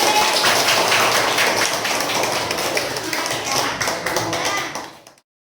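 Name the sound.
students clapping for their classmate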